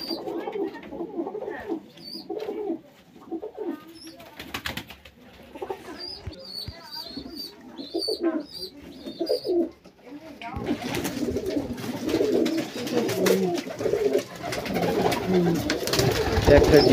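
Pigeons coo softly in a loft, their low murmurs running under someone talking, before a louder burst of broadband rustle and noise takes over near the end.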